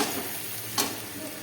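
Spice paste fries in oil in a pan for an egg and dumur curry, giving a steady sizzle with one sharp stirring scrape partway through.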